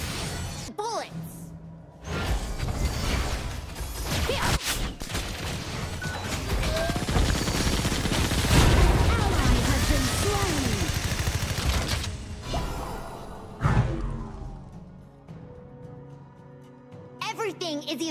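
Rapid bursts of bullets and gunfire from the hero Meng Ya fill a busy mobile battle-arena game, crackling steadily under character voice lines and game effects.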